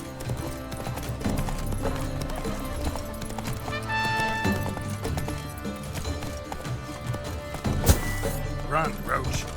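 Horse hooves clip-clop at a gallop in The Witcher 3 video game, steady and close under a dense bed of music and game sound, with a brief sharp hit near the end.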